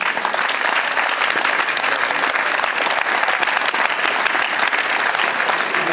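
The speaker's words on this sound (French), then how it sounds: "Merci d'applaudir Julia Stuschek" Crowd applauding a girls' finalist from Germany at a 31st-edition tennis open prize ceremony, steady dense clapping filling the whole stretch at even loudness, close and continuous.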